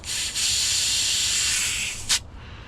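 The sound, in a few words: compressed air blown into a valve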